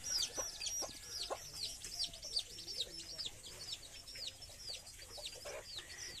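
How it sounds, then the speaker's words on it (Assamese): Punjabi breed hens brooding over their chicks give soft, low clucks beneath a steady stream of rapid, high chick peeps, all close by and continuous. "আমাৰ পাঞ্জাবী মুৰ্গী হয় উমনি লৈ আছে"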